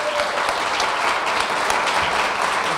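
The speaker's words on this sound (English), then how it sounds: "One last round of applause for all 3 candidates," Audience applause for three mayoral candidates at a 2015 mayoral debate, a dense, steady burst of clapping from a room full of people lasting a few seconds.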